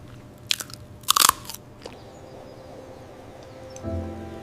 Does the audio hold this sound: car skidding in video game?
no